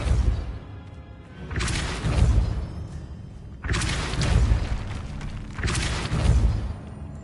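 A Depulso spell is cast three times in the video game Hogwarts Legacy, each cast a loud whooshing burst with a booming thud beneath it, spaced a couple of seconds apart over a low rumbling game ambience.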